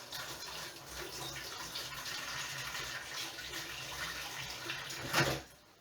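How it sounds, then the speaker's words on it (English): A kitchen tap runs steadily while a metal fork is rinsed under it, a continuous close water rush with a brief louder splash near the end before it cuts off. "I'm going to rinse the fork"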